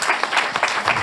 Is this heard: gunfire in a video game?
no